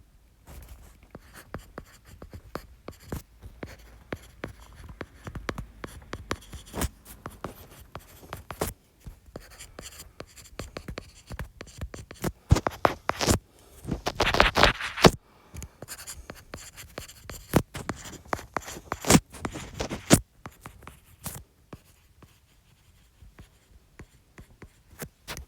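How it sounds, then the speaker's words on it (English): A pen writing on paper while working through a math homework problem, producing steady close scratching strokes with brief pauses and taps over about twenty-five seconds, with no talk. "So let me write this down."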